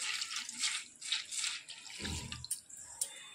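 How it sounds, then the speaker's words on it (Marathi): Sago pearls being rinsed under running water in a strainer, a steady close splashing wash with brief louder gushes partway through, no voices. "पाण्याने असं स्वच्छ धुवून घ्यायचं आहे."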